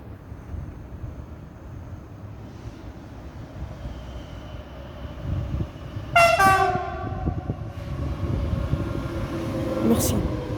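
A Z20500 Transilien commuter train arrives, its horn blaring in a short series of loud, bright blasts, with a fainter final toot near the end, over a steady rumble of train and wind noise and nearby talk.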